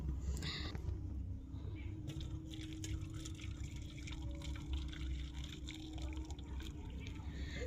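Curdled milk chhana, split with vinegar for chhanar payesh, is poured into a kitchen strainer, giving a soft, steady watery drain under a constant low hum.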